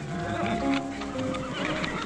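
A horse whinnies nearby with wavering, drawn-out neighing, over restless shuffling and hoof sounds.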